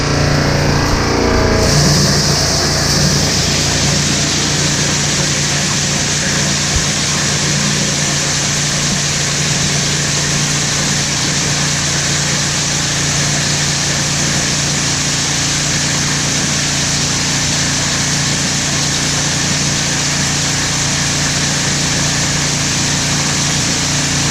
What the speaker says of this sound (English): This material is really easy to grind.